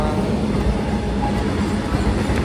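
A train rumbles steadily with low mechanical noise, loud and close, as it slows at Shegaon station.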